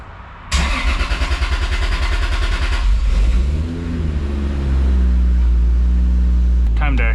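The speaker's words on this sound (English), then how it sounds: "Turning the engine on once again." A car engine cranks with a rapid rhythmic whir after an oil change, catches loudly, dips briefly, then settles into a steady, close idle that runs on to the end.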